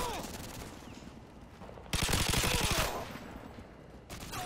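MG4 light machine gun in Modern Warfare 2 fires a loud, dense burst of rapid shots lasting about a second, standing clearly above quieter game ambience and distant shots before and after.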